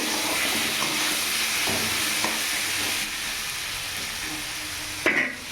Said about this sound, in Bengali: এখানে আলুটা ভাজা হচ্ছে